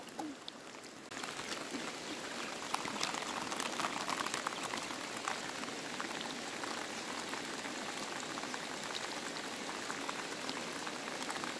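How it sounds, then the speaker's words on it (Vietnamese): Heavy rain pours steadily onto a stream, a dense continuous hiss and patter that stays loud and unbroken throughout, with no voices over it. "Mưa to xuống rồi, chờ một tí nhá."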